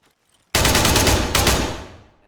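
A rapid burst of automatic gunfire from the video game Arma 3 Battle Royale starts abruptly after a moment of silence, with a second burst layered in, then rings out and fades.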